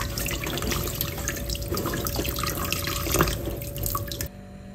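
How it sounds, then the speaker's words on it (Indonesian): Washed beef left to drain in a kitchen, steady trickling and dripping water running close by for several seconds before cutting off abruptly near the end. "Lepas kita cuci, kita toskan daging tu."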